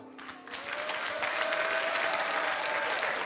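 Studio audience at a French midday TV quiz show applauds a contestant after a correct answer, sustained dense clapping rising quickly and holding loud and steady throughout.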